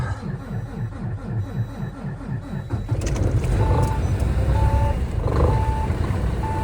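A Dodge Challenger under repair is cold-started: the starter cranks in a rapid rhythmic chug for about three seconds, then the engine fires and settles into a loud, rumbling idle, with a few electronic chimes sounding.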